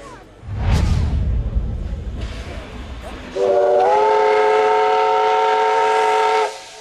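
A steam locomotive chuffs loudly at first, then gives a long sustained multi-tone whistle that holds steady for about three seconds before cutting off, with some voices heard beneath.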